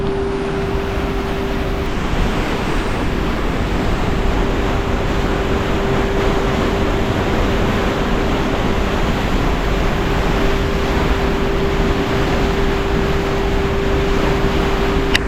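Large volume of water rushing below the Amaravathi dam, a loud, steady broadband roar that holds unbroken throughout with a faint constant hum over it.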